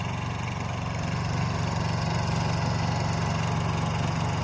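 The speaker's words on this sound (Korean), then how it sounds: "발전기 시동을 걸었죠" A small generator engine, just started, runs in a loud, steady, even chug with constant vibration throughout and nothing else heard.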